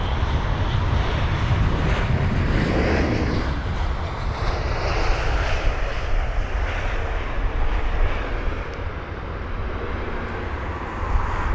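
Airliner on approach to London Heathrow, a steady broadband engine roar heard from the ground at moderate distance, sustained and fairly even throughout with no talk.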